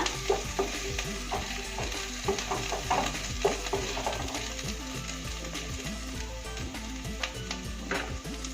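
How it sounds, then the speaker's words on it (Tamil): Crushed ginger and garlic fry over low heat for a Kerala-style chicken kola puttu, giving a steady close crackling sizzle dotted with small irregular pops, with no talking. "சிம்மிலே வச்சு ஃப்ரை பண்ணிக்கோங்க."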